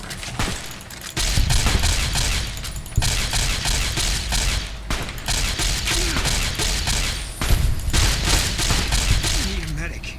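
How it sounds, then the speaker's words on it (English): Repeated laser rifle fire in the Fallout New Vegas video game, with bursts of loud sharp shots in quick succession and brief pauses between volleys. "Good old laser rifle."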